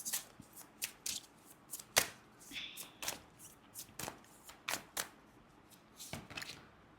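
Tarot cards being shuffled and pulled from the deck: crisp, close card snaps and slaps in a loose, irregular rhythm of roughly a dozen distinct hits, with no voice over them.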